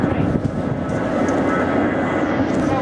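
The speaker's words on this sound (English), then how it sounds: "Plane." A fixed-wing aircraft flies overhead near a waterfront in Lisbon, giving a steady, broad engine roar that holds at constant loudness throughout, with no talk over it.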